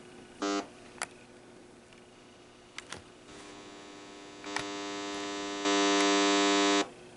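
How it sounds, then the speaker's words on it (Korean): Hearing aid analyzer test signal for an ANSI S3.42 characteristic measurement: a buzzy, harmonic-rich tone that starts with short bursts, then holds and steps up in level twice, growing clearly louder before cutting off. "노이즈의 강도가 약하게 점점점 올라갔단 말이에요"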